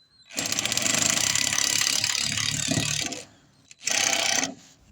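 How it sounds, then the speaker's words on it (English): A screw with a waterproof washer is power-driven into IBR roof sheeting, a loud grinding drill burst of about three seconds, a brief pause, then a shorter final burst as it seats. "Now he's going to drive the screw back in there, which has also got a waterproof washer on the screw itself."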